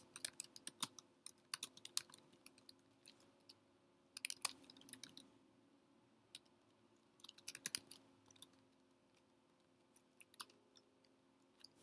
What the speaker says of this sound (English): Now I'm going to type some code.